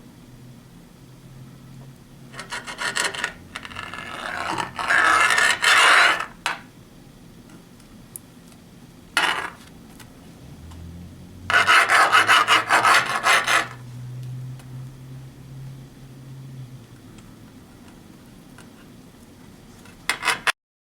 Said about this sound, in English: Now it's time to cut this egg into thin strips.